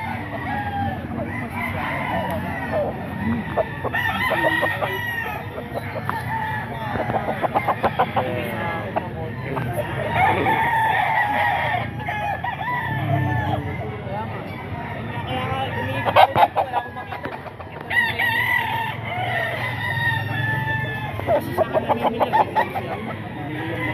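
Boss Albert gamefowl roosters and chickens in a yard, with crows and clucks rising repeatedly over a busy background and honking fowl calls mixed in, while someone talks throughout.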